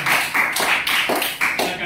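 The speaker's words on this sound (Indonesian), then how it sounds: "Tepuk tangan dulu untuk teman kita." A classroom of students applauds a classmate, a burst of dense, steady clapping that rises and falls in waves, close and loud.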